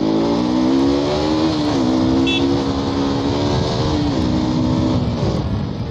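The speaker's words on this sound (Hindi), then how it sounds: "सुपर बाइक तो सुपर बाइक ही है यार, जो भी कहो यार भगाने में मज़ा आता है।" A superbike engine accelerates during a ride, a loud, continuous close-up roar that climbs in pitch through successive gear changes, with no talking.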